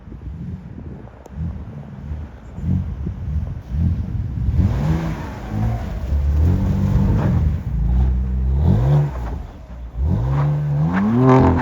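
A BMW F30 car engine revs repeatedly in snow, rising and falling in pitch through several bursts of acceleration, with wind buffeting the microphone throughout.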